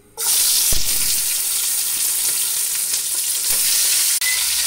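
Ingredients hit hot sugar and oil in a pot for Pakistani biryani, setting off a sudden loud sizzle that holds as an intense, close frying hiss to the end.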